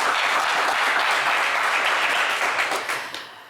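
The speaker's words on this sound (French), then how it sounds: "On l'applaudit." A television game show studio audience applauds a contestant, a loud full burst of clapping that holds steady and then tapers off at the very end.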